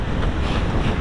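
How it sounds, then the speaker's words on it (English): Strong wind with heavy rain battering the microphone in a brief, loud, continuous roar of buffeting. "it's very windy and heavy rain"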